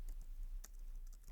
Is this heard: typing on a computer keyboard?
yes